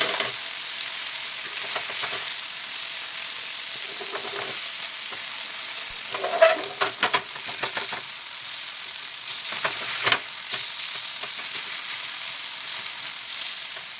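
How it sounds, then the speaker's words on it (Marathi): Cabbage rolls, made from boiled cabbage leaves, shallow-fry in oil in a pan with a steady close sizzle and a few louder crackles and spatters partway through, no voices. "इथे मी हे रोल दोन्ही बाजूंनी छान असे भाजून घेतले आहेत"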